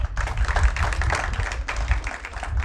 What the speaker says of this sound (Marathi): त्याबद्दल सर्वांनी त्याच्यासाठी टाळ्या